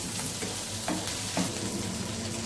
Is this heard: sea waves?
no